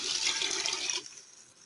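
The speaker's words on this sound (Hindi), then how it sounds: "पानी डाल देते हैं।" Water splashes and pours briefly into a pressure cooker with macaroni, a bright gushing rush for about a second before it cuts off and fades.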